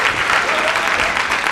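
Brief, dense burst of audience applause at a comedy show, loud and sustained throughout without a break.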